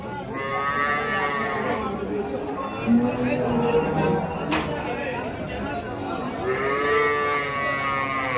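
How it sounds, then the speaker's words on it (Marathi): A Punjab-breed dairy cow moos loudly and close at a crowded cattle market in Dhule, with long drawn-out calls at the start and end over steady crowd chatter and people talking. "26 लिटर डायरेक्ट पंजाबची गाय."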